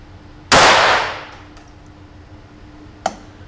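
A single sharp .22LR rifle shot with Eley Tenex match ammunition cracks loudly and rings out as it decays. A much fainter click or tap follows a few seconds later.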